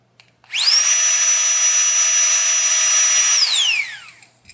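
A small portable backpacking air pump motor whirs up sharply to a loud, steady high-pitched whine, holds for a few seconds, then winds down as it switches off.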